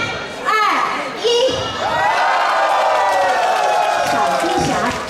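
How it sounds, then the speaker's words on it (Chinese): A children's performance audience in Taipei screams and cheers in a loud, continuous burst of crowd noise with high shrieks and whoops, rising sharply near the start and staying dense throughout. "三秒钟过后，掌声加尖叫，"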